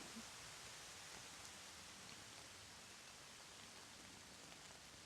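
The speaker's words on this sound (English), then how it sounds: "as the rain begins to intensify here" Steady rain falls outdoors as a dense, even hiss that fills the whole few seconds, faint and unbroken with no voices.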